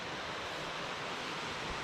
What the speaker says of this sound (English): But it's just coming down in sheets just now. It is just like that thundery rain that they were talking about.